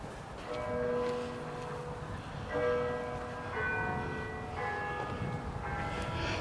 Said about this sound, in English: I just love church bells.